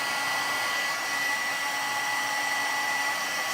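A hair dryer blows a constant, even whir at close range while drying stain-soaked paper for a textured background, running alone without interruption.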